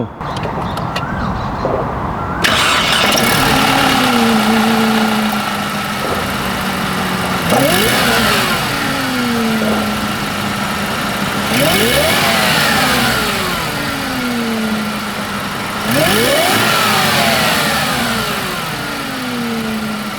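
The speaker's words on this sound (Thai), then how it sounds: "มาฟังเสียงเครื่องยนต์กัน" A Mercedes-Benz C200 Kompressor (W204) supercharged engine idles, then revs sharply four times at regular intervals, each rev rising and falling back to a steady idle, loud and close.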